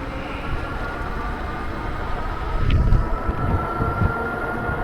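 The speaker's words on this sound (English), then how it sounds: "All right, so we're hitting the throttle." A fat tire e-bike motor accelerates on throttle, a steady whir and rumble that builds slightly in the middle, with wind and road noise, and no talk.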